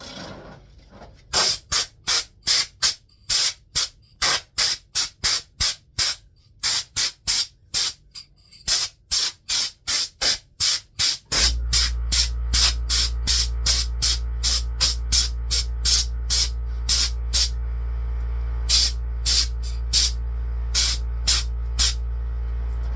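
Rapid short bursts of spray hiss as finish is sprayed onto a wooden bark bowl in a quick repeating rhythm, joined halfway through by a steady low mechanical hum that continues beneath the sprays.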